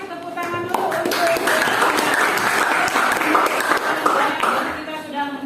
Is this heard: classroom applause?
yes